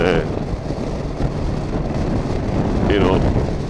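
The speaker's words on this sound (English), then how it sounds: "It's a bit windy," Steady wind buffeting a microphone, a continuous low rumbling roar with gusty fluctuations, heard outdoors while moving along a two-lane road on Lewis in the Outer Hebrides.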